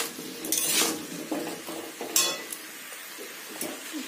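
Pumpkin and potato curry with shrimp is stirred and sautéed in a pan, a spoon scraping and clinking against the metal in irregular bursts over a soft, steady sizzle, with no voices.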